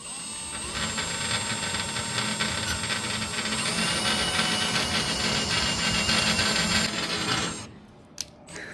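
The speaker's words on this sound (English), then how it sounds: "My assistant has grabbed the drill and we're gonna start drilling this out" A power drill boring into a gun safe in a storage unit, a steady whining grind that runs loud and unbroken for about seven seconds before cutting out, followed by a short sharp knock.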